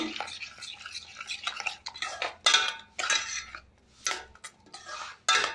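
Spoon scraping and clinking against a pan while stirring pala kesari in milk, a run of close, irregular metallic scrapes and taps with short pauses.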